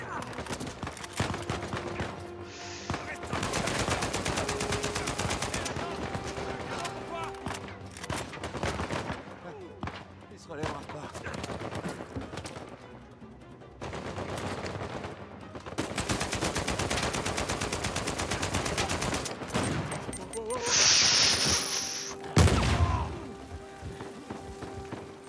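Dense bursts of rapid gunfire and automatic weapon fire in Uncharted 4, loud and close, in repeated volleys with short pauses, plus a sharp crash near the end, over game ambience.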